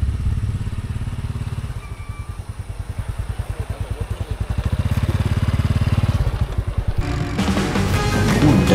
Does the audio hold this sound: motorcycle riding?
yes